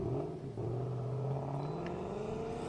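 A small Mazda Miata accelerates across an autocross course, its engine a steady, rising drone heard from a distance at low level, with no talking.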